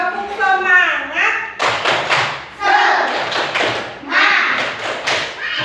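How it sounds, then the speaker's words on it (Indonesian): Children perform the rhythmic 'tepuk semangat' classroom clap, loud bursts of hand claps in patterned groups alternating with chanted voices. "Tepuk semangat."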